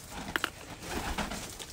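Pigeons coo softly in a loft as the birds come down from flight, with two brief clearer calls early on over a low, steady outdoor background.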